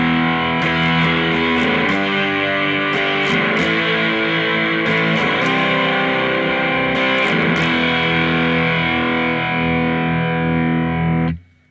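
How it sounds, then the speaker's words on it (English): Electric guitar played through a Tone King amp with a distortion pedal engaged, a loud, sustained saturated tone with repeated strummed chords ringing out alone before cutting off at the end. "but when I put on the distortion,"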